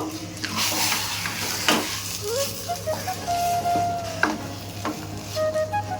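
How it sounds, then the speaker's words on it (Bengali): Turmeric and salt being stirred into a masala dosa potato filling in a pan on a gas stove, with steady scraping and soft sizzling close by, a faint hum underneath and a few sharper clinks of the spoon. "হলুদ দেব আর একটু নুন দেব এবার ভালো করে মিশিয়ে নেব"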